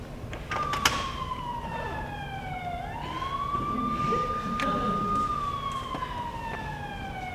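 A police siren wails nearby, sweeping down then rising into a long sustained tone over passing traffic noise, with no one speaking.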